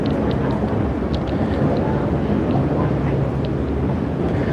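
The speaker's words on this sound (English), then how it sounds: "you can see right now the engines are fired up. It looks like the propellers are turning back here. We've got water moving" Cruise ship engines run and propellers churn the water at the stern during sail away, with a tug pulling in behind; a steady, loud, broadband rumble and wash continues throughout, with wind buffeting the microphone.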